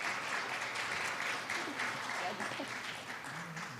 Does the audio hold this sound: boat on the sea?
no